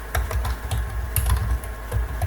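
Rapid keystrokes on a computer keyboard, close and crisp, in quick irregular bursts with brief pauses while text is entered into an Excel automation field.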